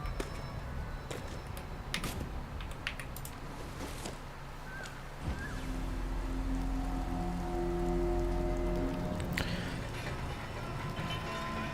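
Rain falling in the video game Sky: Children of the Light, a continuous soft hiss of drops, with a low steady hum swelling in partway through and no talking.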